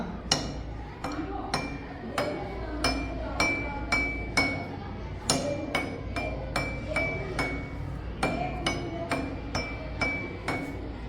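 Glass tumblers in a classroom are tapped one after another with a teaspoon, giving a steady run of bright, ringing clinks. The pitch changes from glass to glass, and faint background sounds can be heard.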